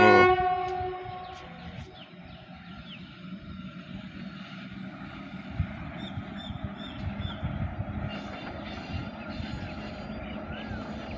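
A passenger train moving through Thirunallar railway station, with a steady low engine rumble and rolling rail noise that swells slightly, heard at close range with a voice briefly talking at the start.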